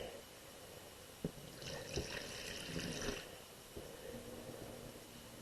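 Water is quietly poured into a basin on a table for a couple of seconds, a soft splashing amid faint background noise.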